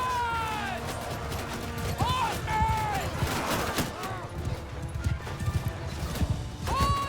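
Cavalry horses in a Mount & Blade II Bannerlord battle, with hoofbeats and whinnies mixed into a busy, loud battlefield din of clashing sounds and shouts.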